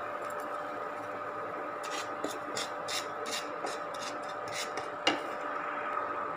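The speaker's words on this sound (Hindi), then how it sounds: "मैं इसमें इसको भून रही हूँ सूखा, इसमें घी नहीं डालना, बिना घी डाले इसको भूनना।" Semolina dry roasted in a pan without ghee, a utensil scraping and tapping against the pan in quick repeated strokes over a steady low hum, with no talking.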